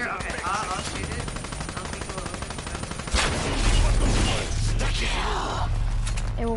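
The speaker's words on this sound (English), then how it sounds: "I'll shoot it." Rapid automatic gunfire from the Der Eisendrache zombies game, a dense steady stream of shots throughout that grows heavier and louder midway, with game effects and faint background voices mixed in.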